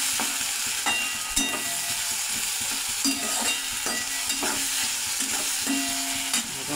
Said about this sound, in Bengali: এবার আমি মশলাটা দিয়ে ভালো করে ভেজে নেব